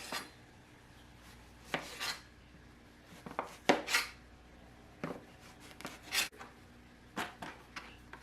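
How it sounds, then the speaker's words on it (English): A knife slicing vegetables on a cutting board for a trout dinner, separate crisp chopping strokes arriving in irregular bursts with pauses between, close and fairly quiet. "Starting with my vegetables, I'm just going to slice them."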